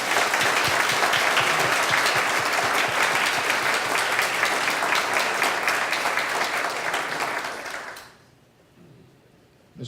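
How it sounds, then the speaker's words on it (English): Audience at a park dedication applauding park designer Fred Koontz, a dense, steady round of clapping lasting about eight seconds before tapering off abruptly into near silence. "We've got a little round of applause."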